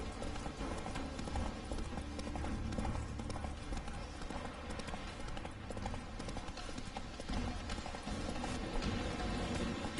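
A horse's hooves clip-clopping at a steady galloping rhythm in The Witcher 3: Wild Hunt video game, continuous and fairly loud over a dense background of game music and ambience.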